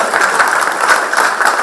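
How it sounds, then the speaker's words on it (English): An audience at a talk applauds a guest named Mr. Vinayak, producing a dense, steady patter of many hands clapping close by that continues throughout without pause. "Can we all give a round of applause to Mr."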